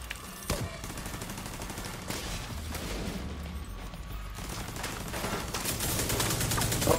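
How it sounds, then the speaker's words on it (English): Gunfire rattles in a video game in rapid bursts and scattered shots, with a sharp crack near the start and a dense, rising volley toward the end. "Oh, he's shooting another one."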